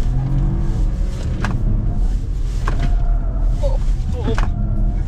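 A Geely Atlas Pro or Jaecoo J7 all-wheel-drive SUV pulls away from a standstill on a ridge of furrowed ground, its engine a steady loud drone with scattered clunks and creaks from the body.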